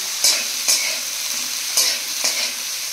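Pumpkin slices fry in hot oil with a steady, soft sizzle, broken by four sharp scraping stirs of a spatula against the pan at uneven intervals, close and alone with no talking.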